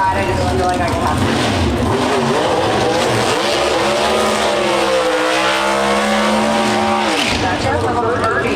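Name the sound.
Pro Stock drag race car launching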